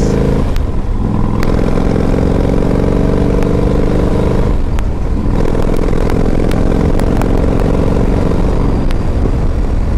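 A 2012 Yamaha Road Star 1700 motorcycle engine idles and revs loudly and steadily up close, its deep rumbling drone unbroken for the whole stretch with a few sharp mechanical ticks over it.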